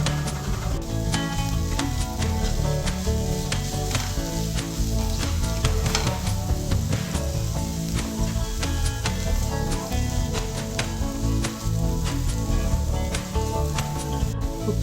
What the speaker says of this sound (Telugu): టమాటో పేస్ట్ ఫ్రై అయిన తర్వాత కారం, ఉప్పు వేసుకోవాలి.